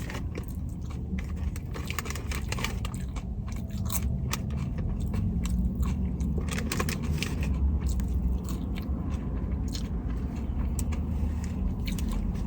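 Crunchy fried chicken being bitten and chewed up close, a run of crisp crackling crunches and scrapes over a low background rumble, with no talking.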